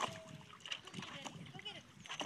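Olive the dog splashes and sloshes water in a pool, making several quick, close splatters. A person talks over the splashing.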